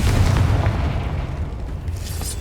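A Confringo fire spell explodes in the Hogwarts Legacy video game as a deep, rumbling boom that starts loud and decays into a sustained low roar across the whole moment.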